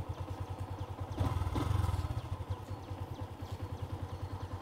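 Exhaust of a Yamaha Exciter 150 motorcycle idling with a steady, even putter, briefly swelling louder with a short blip of throttle before settling back to a quiet, regular idle.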